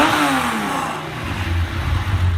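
A Porsche 911 restored with its battle scars intact starts up and revs, the engine's tone sweeping down after the catch and then settling into a loud, throbbing idle with small rhythmic pulses.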